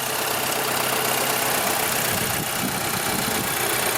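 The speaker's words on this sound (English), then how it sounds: "Engine has been running." A 2007 Audi A3 engine idles steadily and close by after a starter replacement, a continuous low rumble with a faint mechanical rattle, no voices.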